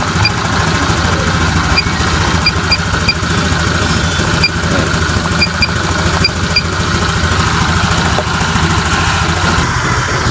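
A Honda Vario 125 scooter engine with a worn CVT roller runs steadily during a test, a constant close mid-pitched drone with no talk.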